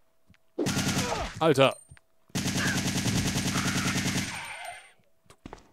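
Rapid automatic gunfire from Resident Evil 3 Nemesis comes in two loud, sustained bursts separated by a short pause, with a man's brief exclamation over the shooting.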